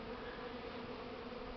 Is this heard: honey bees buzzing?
yes